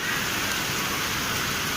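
Light rain falls outdoors, giving a soft, even patter that stays steady and fairly quiet throughout, with no voices.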